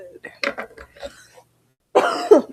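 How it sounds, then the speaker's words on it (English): A woman coughs and clears her throat during a casual sewing stream, a few short close coughs followed after a pause by a louder, harsher burst. "I'm sorry for all the coughing."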